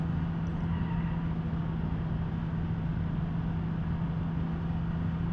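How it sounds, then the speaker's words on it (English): Car engine in BeamNG.Drive on the Nürburgring, a base-model Suzuki Ignis or Skoda climbing uphill, holds a steady low droning strain near and loud, an even revving hum with no talk over it. "you can feel the engine just sort of like revving out"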